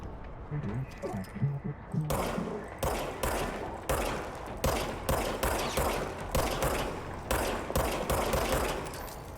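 Rapid gunfire from a gun in the video game Control cracks out in a long, close sequence of sharp shots, with short bursts separated by brief gaps, loud throughout and with no one talking over it.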